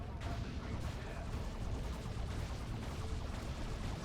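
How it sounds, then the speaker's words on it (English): Eldar Falcon grav-tank firing on an Inquisitor during a 2v2 Dawn of War 2: Retribution match, a dense continuous barrage of overlapping shots and blasts filling the whole stretch at steady loudness. "Falcon shooting at the Inquisitor"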